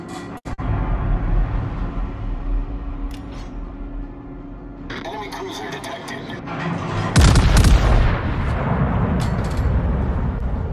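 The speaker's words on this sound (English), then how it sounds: "Concentrate fire on the designated target." Heavy naval gunfire from a Rhode Island battleship in World of Warships, booming blasts with a loud salvo near the end over a continuous rumbling battle background.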